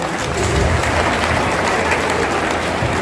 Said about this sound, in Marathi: त्यामुळे एकदा जरा जोरदार टाळ्यांचा कडकडाट झाला पाहिजे.